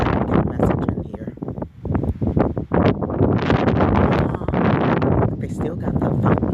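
Wind gusts outdoors among autumn leaves and fountains, buffeting the microphone in loud rumbling bursts while people talk over it.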